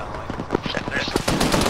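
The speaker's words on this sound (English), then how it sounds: "This might just be HMGs" Heavy machine gun fire in a military shooter game, a rapid string of loud close bursts with sharp cracks, overlapping with a voice in the background.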